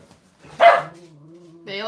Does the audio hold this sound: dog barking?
yes